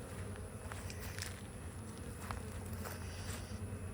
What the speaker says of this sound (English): It's not a very big swarm, but a nice little pack of bees